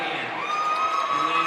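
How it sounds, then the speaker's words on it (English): At a conference swimming championship finals, the crowd in a pool hall lets out a sustained roar of cheering and shouting, loud and reverberant, with whoops rising above it. "A lot of Brady Hand fans in the house. Got a nice applause there."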